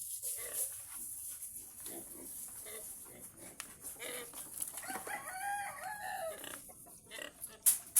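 Pig grunts and snorts from a pregnant sow mixed with rooster crowing and hen clucking in a busy farmyard, with some background voices.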